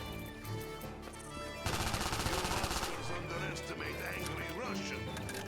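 Rapid bursts of gunfire from a Call of Duty zombies video game, loud automatic shots layered over game music and sound effects, with a voice talking over the action.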